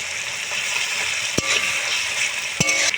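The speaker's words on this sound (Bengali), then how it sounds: "তো টমেটো আর পেঁয়াজটা খুব ভালোভাবে ভাজা হয়ে গিয়েছে" Tomato and onion fry in oil in a pan with a constant close sizzle, punctuated by two sharp clanks of a utensil against the pan.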